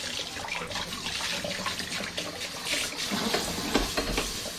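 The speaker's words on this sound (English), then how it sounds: "I'm just going to give them a rinse now because I want to have them clean and not sticky" Running tap water steadily splashes over capped bottles of homemade IRN-BRU hard apple cider being rinsed clean, with a continuous close hiss and small irregular splashes throughout.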